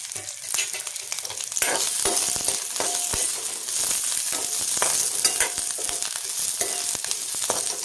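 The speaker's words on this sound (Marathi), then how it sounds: "अजून थोडंसं तेल घालूयात भाजायला" Oil sizzles steadily in a pan as spices for Kolhapuri misal are roasted, with a continuous bright frying hiss broken by frequent scraping and clinking stirs, and no talking.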